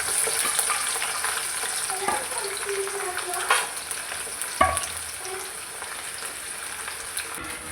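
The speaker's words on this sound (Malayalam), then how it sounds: "ചക്ക എല്ലാം വറുത്തെടുത്തിട്ടുണ്ട്." Jackfruit pieces fry in hot oil for a Kerala jackfruit dish, a steady close sizzle with occasional clinks and scrapes of stirring throughout, no voices.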